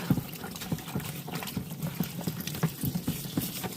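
A metal vibratory tumbler bowl gets scrubbed with dish soap in a sink, giving splashy water sounds and soft irregular rubbing bursts that come and go at close range with no talking.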